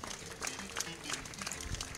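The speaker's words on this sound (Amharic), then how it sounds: "ለጌታ ክብር አጨብጭቡለት።" A church congregation claps together in a dense, continuous patter that sounds somewhat distant and faint, with no clear speech over it.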